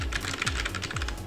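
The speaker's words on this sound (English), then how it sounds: "Here's a quick keyboard test as I'm talking into the microphone" Keyboard typing test on a budget gaming setup: fast continuous keystrokes rattle close to the microphone in a dense, even clatter.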